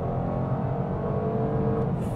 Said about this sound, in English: So I've got the engine running, standstill, floor it.